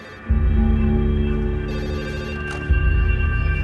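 A telephone rings in the control room of the Bhopal chemical plant: a loud, steady electronic tone over a low hum, rising again near the end, with no one speaking.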